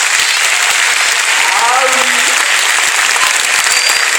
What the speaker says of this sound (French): Est-ce qu'on peut applaudir pour nos mamans?